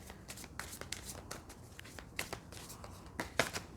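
Tarot cards handled and shuffled at close range, a quiet run of soft riffling slaps and papery flicks in an irregular rhythm, with one sharper snap near the end.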